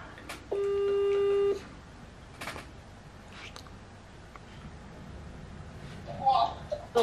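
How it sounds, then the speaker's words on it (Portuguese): A phone call being placed: a single long electronic tone of about a second, then quiet line hiss with faint clicks and a brief chirp near the end. "Vamos ligar a Jéssica, pessoal."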